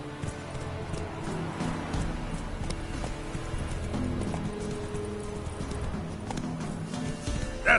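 Roach, Geralt's horse in The Witcher 3, clip-clops along with steady rhythmic hoof strikes over a busy game soundscape. The hoofbeats stay close and moderately loud, with a soft whinny near the end.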